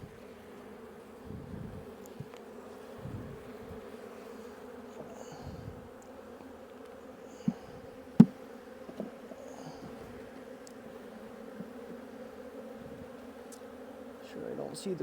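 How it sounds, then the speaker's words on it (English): Honeybees buzzing during fall hive work as a beekeeper handles and dumps them out, a steady low drone running throughout with occasional handling knocks and brief faint voices. "I'm gonna dump these bees out."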